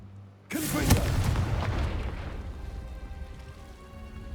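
Confringo fire spell blast in Hogwarts Legacy, a sudden loud boom that rumbles and slowly fades over a few seconds, no talk.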